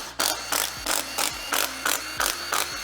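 A ratchet working a bolt loose from the windage tray of a Toyota GR Supra engine, six or seven steady, evenly spaced metallic clicking strokes, close and loud.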